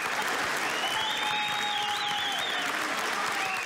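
A crowd at an Oklahoma Turnpike Authority public meeting breaks into loud sustained applause, with cheers and whistles rising over the clapping throughout.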